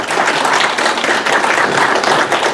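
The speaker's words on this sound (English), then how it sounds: "Okay, give them a round of applause." An indoor audience at a business community meeting claps steadily for a couple of seconds, a dense, fairly loud wash of many hands with no voices standing out.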